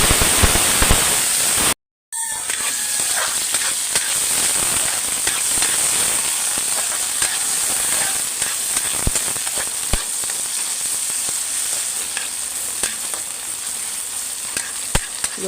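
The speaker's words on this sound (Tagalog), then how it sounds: "Pag-gisa, kailangan luto siya bago siya lagyan ng itlog." Papaya and tomato sautéing in a pan sizzle loudly and steadily, with occasional stirring clicks and scrapes and a brief gap near the start.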